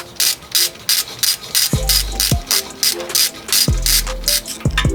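A ratchet clicks in quick repeated bursts while loosening a 10mm bolt on a Lexus IS300 ABS wheel-speed sensor at the steering knuckle, close and loud, with low thuds as the handle swings back.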